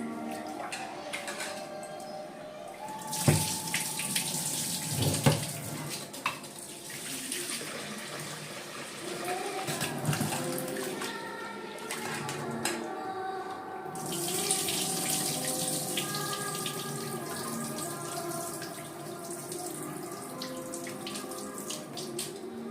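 Tap water runs steadily into a sink while soaked basmati rice is rinsed by hand, a continuous close splashing and swishing with occasional louder sloshes and clinks throughout, no voices.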